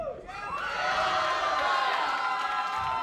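Wrestling crowd cheering and roaring loudly in an arena, a sustained wall of shouts and whoops swelling up and holding for several seconds.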